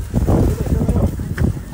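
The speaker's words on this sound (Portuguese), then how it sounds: "Vamos ligar aqui o motor do iate." A yacht's engine runs steadily out on the water, a low rumbling drone mixed with wind buffeting the microphone, close and fairly loud throughout.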